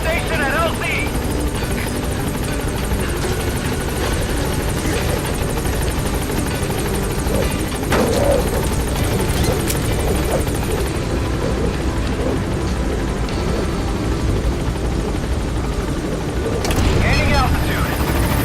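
Pequod helicopter from Metal Gear Solid V: The Phantom Pain landing at the LZ: a loud, steady rotor and engine drone throughout, with a radio voice speaking over it.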